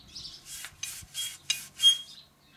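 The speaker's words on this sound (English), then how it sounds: "let's try with a Scotch-Brite pad" A Scotch-Brite pad scrubbed against a rusty dirt bike steering part, five distinct raspy strokes in quick rhythm, close and fairly quiet, with no talking.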